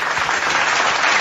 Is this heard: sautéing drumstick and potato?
no